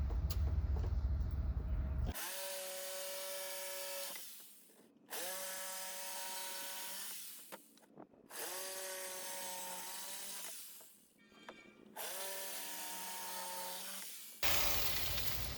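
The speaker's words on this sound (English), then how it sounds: "all I'm doing now is cutting the feet that'll go underneath of everything" Power tool cutting wooden feet for a rod wrapping jig, four separate whining cuts of about three seconds each with short pauses between, close and fairly loud with no talk.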